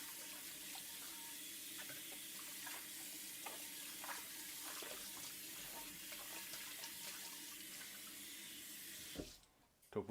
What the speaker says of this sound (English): Let's give this pan a little rinse real quick